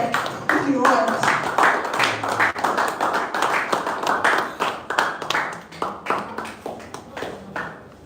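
An audience at a conference session claps in a dense burst that stays steady, then thins into separate sharp claps that slowly fade out.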